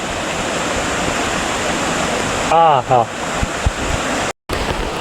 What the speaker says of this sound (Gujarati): આવું સરસ મજાનું અત્યારે પાણી આવી રહ્યું છે ગિરનાર ઉપરથી